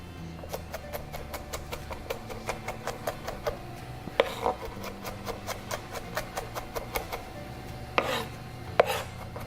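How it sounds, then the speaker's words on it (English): Knife mincing garlic on a cutting board, a steady run of quick, sharp taps close by with a few heavier knocks, no talking. "Next, we'll mince our garlic."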